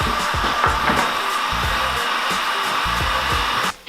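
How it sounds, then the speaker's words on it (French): Heat gun blowing hot air in a motorcycle workshop while reworking a 660 XTZ Ténéré, a loud, steady close-up whoosh with faint rhythmic thuds underneath, cutting off at the end. "Le décapeur thermique est mon ami."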